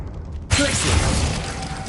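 A Glacius freezing spell lands in Hogwarts Legacy with a sudden bright crack and shattering crunch after a quiet moment, followed by a sustained icy hiss with a faint ringing tone.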